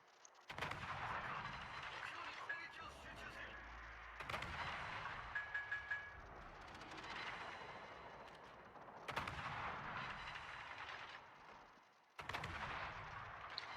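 Warship main guns firing shells in the naval game Jinan, heavy booming salvos in repeated bursts roughly every few seconds, each blast sharp and loud with a rumbling tail, no talking.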